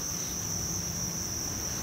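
Crickets at a cricket farm chirp in a dense, steady high-pitched drone that fills the whole moment without pause, close and continuous, with no voices.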